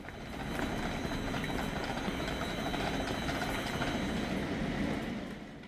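A Korean ITX-Maeum passenger train running steadily, a broad continuous rumble and rattle of wheels on rails heard from inside, constant and fairly loud.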